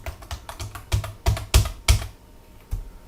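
Close, crisp keystrokes on a computer keyboard come in quick irregular bursts with a few louder key presses, and there is no talking.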